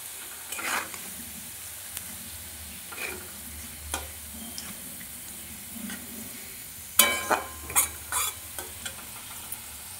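Onions frying in a pan for mutton curry give a low, continuous sizzle, broken by scattered scrapes of a spatula and a louder burst of stirring clatter near the end.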